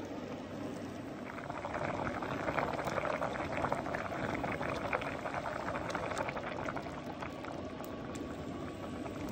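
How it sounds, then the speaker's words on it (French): A pot with a bouquet garni simmering, a steady close bubbling and gurgling with soft pops and no voices. "je pars pour 1 heure, hein, à faire mijoter pendant 1 heure"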